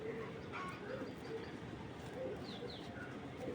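Soft, low cooing of racing pigeons repeats several times over a hum of background noise, with a few faint chirps.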